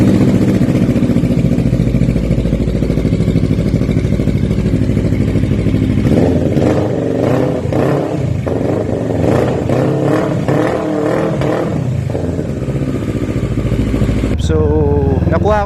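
An NK400 motorcycle engine fitted with an Akrapovic-copy exhaust pipe idles with a steady, loud rumble, then blips the throttle in a series of quick revs, with a clatter near the end.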